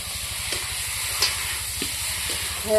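Spice paste with tomato paste frying for a village-style mutton curry, a steady close sizzle and hiss with a few soft stirring scrapes, no one speaking.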